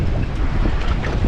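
Strong wind roars at sea aboard a fishing boat, a steady, loud broadband rush across the whole stretch with gusty buffeting on the microphone and no voices.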